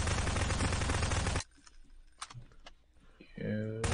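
A loud rapid burst of automatic gunfire in the game Garry's Mod cuts off abruptly, followed by quieter scattered clicks and taps, then a tonal, music-like sound rises at the end.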